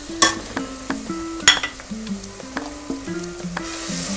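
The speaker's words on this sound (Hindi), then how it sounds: "प्याज ब्राउन करते हैं। इसमें हम ये मसाले डालेंगे तीनों" Onions and spices sizzle in a pan while a utensil clinks against the metal in repeated stirring strokes, close and steady, with no talking.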